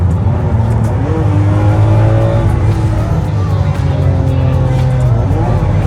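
A Rolls Royce engine revs and accelerates, its steady low drone climbing in pitch through the gears. The car sounds close and loud throughout, with no talk over it.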